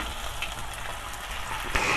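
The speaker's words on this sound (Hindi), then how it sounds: "प्याज डाल के हमने इसको हल्का सा फ्राई किया है" Onions frying gently in a pan with turmeric and salt, a steady soft sizzle running throughout with a brief sharper crackle near the end, no voices.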